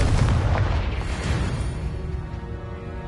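A Confringo spell explosion in Hogwarts Legacy booms close and heavy, then rumbles and fades over a few seconds, with no talking.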